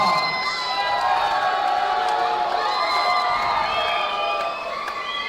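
An MMA event crowd cheers and whoops loudly for fighter Prieto in a sustained, dense roar with overlapping shouts. The noise fades slightly at the very end.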